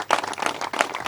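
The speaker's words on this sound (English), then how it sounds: "I want to give her a round of applause for her amazing leadership." Audience applause for Roberta Reardon at a public event, a brief burst of many hands clapping, fairly loud and steady with no talk.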